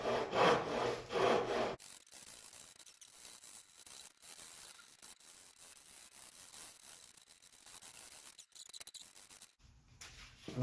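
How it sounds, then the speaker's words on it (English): A flat Harbor Freight rasp carves the contours of a wooden guitar body, a dry scraping rhythm of repeated strokes close up, louder at the start and again at the end. "This handy dandy Harbor Freight rasp, a flat rasp, just to get the general shape carved in here first."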